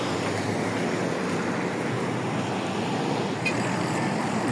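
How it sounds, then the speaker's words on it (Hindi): Road traffic rolls steadily along a main road beside a flyover construction site, a low continuous rumble of passing vehicles with no clear individual pass-bys. "ये ट्रैफिक भी देख लें साथ"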